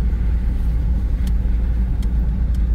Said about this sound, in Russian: вот сейчас идем, такой довольно серьезный спуск на третьей передаче